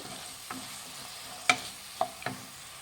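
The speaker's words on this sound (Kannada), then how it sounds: "ಟೊಮೆಟೊ ಚೆನ್ನಾಗಿ ಮೆತ್ತಗಾಗಬೇಕು, ಅಲ್ಲಿವರೆಗೂ ಫ್ರೈ ಮಾಡಬೇಕು" Chopped onion and tomato frying in a pan for egg kurma, with a steady soft sizzle under several distinct spoon scrapes and stirs spaced apart, no voices.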